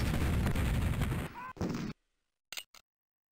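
Battle sounds from Civil War Generals 2 open with a dense, loud roar of gunfire, cut off abruptly, followed by a short burst and two sharp isolated pops after a moment of silence.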